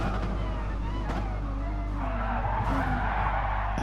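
Touring car skidding and spinning out in a racing game at the Catalunya circuit, a steady engine drone and broad tire scrub running throughout, with a voice talking over it.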